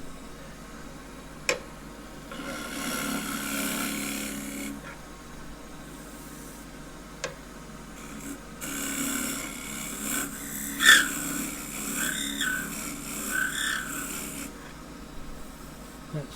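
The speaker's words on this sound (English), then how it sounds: "That singing noise is when the edge of the scraper came up against the thin part of the wall." A scraper cutting the thin wall of a small maple bowl spinning on a wood lathe: a soft, raspy scraping with a few ticks, then a thin ringing, singing tone rising and fading over the steady hum of the machine.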